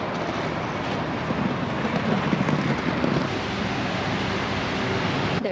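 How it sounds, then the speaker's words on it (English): Steady rain falls at a bus station, a broad, even hiss of downpour with no voices, holding at a constant level throughout. "and it's still raining."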